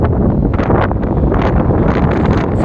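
High winds batter a microphone on the beach at Saint Simons Island after a cold front, a loud continuous roar and buffeting with no let-up.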